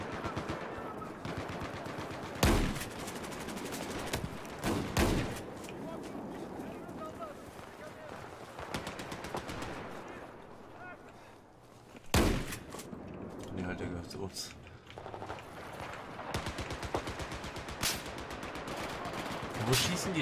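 Gunfire in Battlefield 4, with sustained automatic bursts rattling on and off and a few louder, heavier shots standing out, mixed with chatter from players talking throughout.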